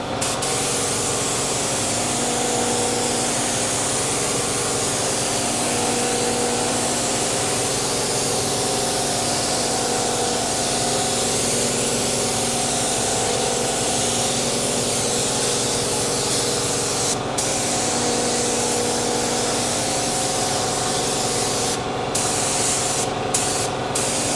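Paint spraying in a fake wood-grain finish job with an air compressor running, a loud continuous airy hiss over a steady mechanical drone, unbroken for the whole stretch with a few brief sharp clicks near the end.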